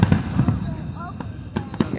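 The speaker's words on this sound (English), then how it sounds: "I don't think I've seen pink fireworks, really." Independence Day fireworks in Washington DC burst overhead as a string of booming thumps and crackles, with people talking over the display.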